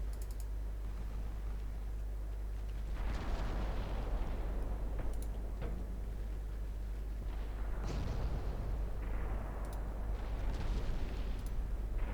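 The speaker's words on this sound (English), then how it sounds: "Start targeting those heavy cruisers with my 8-inch guns" Heavy 8-inch naval guns fire during a fleet battle with heavy cruisers in Ultimate Admiral Dreadnoughts, several faint, deep booming shots spread across the stretch over a low steady hum, with no talking.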